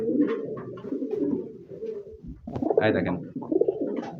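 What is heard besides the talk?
pigeon cooing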